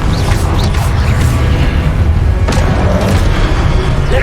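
A Confringo blasting spell goes off in Hogwarts Legacy with loud booming explosions that land over steady game noise, including a sharp burst near the middle.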